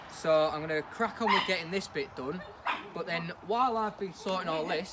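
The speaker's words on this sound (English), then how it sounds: "if you can hear the barking" A dog yips and barks repeatedly, close by at an allotment, mixing with whimpering sounds while someone talks over it.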